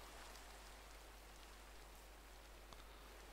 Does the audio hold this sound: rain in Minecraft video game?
yes